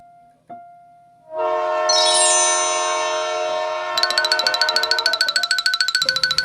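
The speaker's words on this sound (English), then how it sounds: "Train." A train sound effect starts with a long, loud horn blast holding steady tones, then shifts into fast, regular clacking of wheels on rails, all on its own with no voices.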